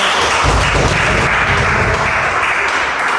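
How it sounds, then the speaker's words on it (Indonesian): Steady applause from a group during a floor gymnastics teacher-training session, dense continuous clapping that stays loud and even for about three seconds with no talk over it. "Oke, tepuk tangan dulu."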